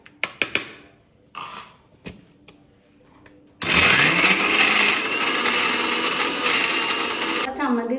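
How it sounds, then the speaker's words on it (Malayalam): Orange peel chutney is ground in a kitchen mixer grinder. A few sharp taps and clatters come first, then the motor starts with a loud, steady whirring grind that runs without a break to the end. "ഇനി ഒന്നുകൂടെ അരയ്ക്കാം."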